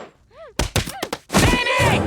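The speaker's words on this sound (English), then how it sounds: "Haley fights to protect him and, in the chaos, ends up shooting Stan." Cartoon gunshots in an animated Christmas episode: a couple of sharp bangs in quick succession among shouted, chaotic voices, then a louder sustained burst of noise.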